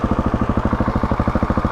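A motorcycle engine during slow-speed riding practice, held at steady low revs against the clutch biting point: a close, even, rapid chugging pulse with no voices.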